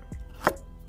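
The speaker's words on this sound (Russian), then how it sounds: "Для того, чтобы картошка и морковь во время приготовления ухи не разваривалась, их нарезают крупными кусками" A knife chops carrots into large pieces on a cutting board for fish soup cooked in a cauldron over a campfire, with a few single close thuds, one sharper than the rest.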